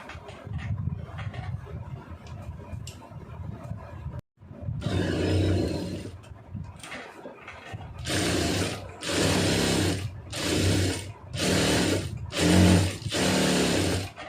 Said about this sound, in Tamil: தையலை வந்து சின்ன தையல் வச்சுக்கிறோங்க.